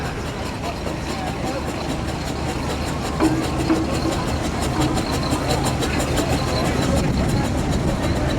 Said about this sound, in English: The engine about to pass the commentary point is Rob Tyler's Fowler Tiger tractor.